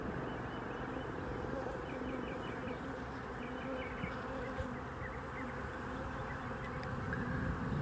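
Honeybees drawing out comb on hive frames, a dense, steady buzz of many bees close by that holds unbroken from start to finish.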